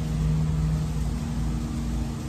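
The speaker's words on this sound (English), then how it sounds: "Also, excuse the lawnmower." A lawnmower runs nearby as a steady, droning engine hum that holds at an even level throughout, with no talk over it.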